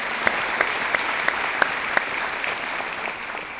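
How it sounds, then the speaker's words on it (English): Graduation audience in Royce Hall at a UCLA doctoral hooding ceremony applauding student marshals, a dense, steady wash of clapping that carries throughout and eases slightly toward the end. "One more round of applause for our amazing student marshals."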